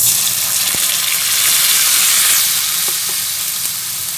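Ground masala paste hits hot oil with garlic and curry leaves for a Malvani bangda fish curry, sizzling loudly and evenly with a few stirring knocks and no talking.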